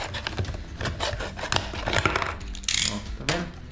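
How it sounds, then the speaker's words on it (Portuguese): Plastic bottle having its bottom cut off, a close, faint run of scraping, crunching cuts with sharp clicks and rasps and no speech. "Eu gosto de cortar bem em cima a garrafa. Vamos cortar."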